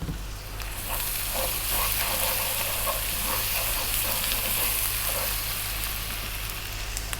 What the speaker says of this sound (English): make sure that you cook your onions till they brown slightly